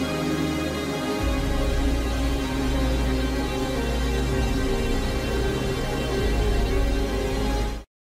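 Chopped, bit-crushed music plays as a dense, gritty wash with a heavy low end entering after a second, then cuts off abruptly at the end, loud and with no voices.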